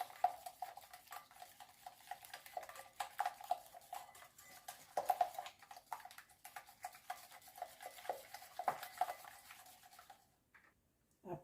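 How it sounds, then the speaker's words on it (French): A spoon stirs cake batter in a bowl with a run of quick, light clinks and scrapes against the side. The taps come faint and close, then stop at the end. "Essayez de bien mélanger."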